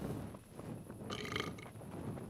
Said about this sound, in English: What's drunkenness without a few burps?